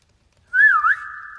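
A single melodic whistle on a guide vocal track enters after a half-second of silence, glides up and down in pitch, then settles into a sustained steady note, clear and close with no talking.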